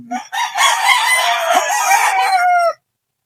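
A labuyo fighting rooster crows close and loud in one long, strained cock-a-doodle-doo lasting over two seconds, then silence.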